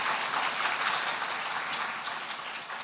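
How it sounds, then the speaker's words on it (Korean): A church congregation at a Sunday worship service claps to bless visiting missionaries, a dense, even applause that fills the hall and fades slightly toward the end. "박수로 축복하겠습니다"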